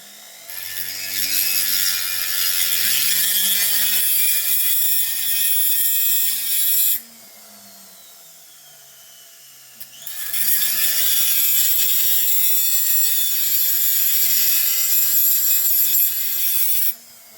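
A rotary tool whines steadily while cutting speed holes into a McCullough engine piston, two sustained high-pitched grinding passes of several seconds each separated by a quiet pause, loud and close with no talking.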